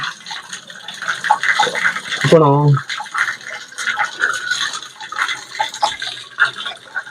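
Water splashes steadily from the mouth of a stone bull at the Antara Gange temple, heard under people talking nearby.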